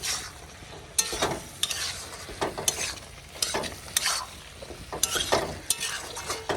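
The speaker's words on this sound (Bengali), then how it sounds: "এখন সবজিগুলো দিয়ে দিচ্ছি। সবগুলো একসাথে দিয়ে" Vegetables tossed into cooked-down spices and stirred, with a sizzling fry under a series of sharp, rhythmic scrapes and clacks of a spatula against the pan, close and fairly loud.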